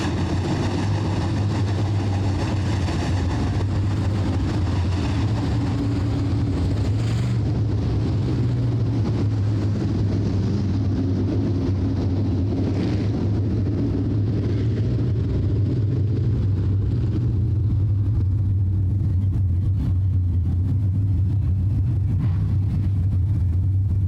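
Modified stock cars circling under caution at Rapid Speedway, a deep, continuous engine drone with a heavy low rumble that holds steady, then slowly fades as the field moves off.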